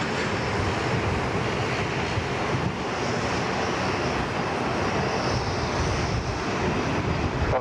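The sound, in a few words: airliner taking off from Sydney Airport runway 34 left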